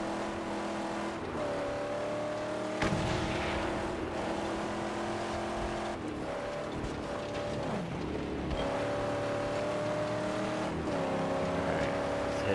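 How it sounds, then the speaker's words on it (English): A vehicle's engine in the post-apocalyptic driving game Mad Max drones and whines continuously, pitch climbing and dropping through several gear shifts and revs, steady and fairly close, with no voices over it. "My car makes noise again."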